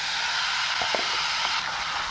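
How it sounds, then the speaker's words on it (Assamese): Chicken meat hitting a hot kadai without added oil, giving a steady hissing sizzle with a few brief crackles, close and continuous. "এতিয়া মই ডাইৰেক্ট মাংসখিনি দি দিওঁ।"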